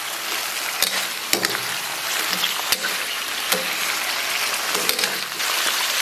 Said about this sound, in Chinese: 给它反复煸炒一下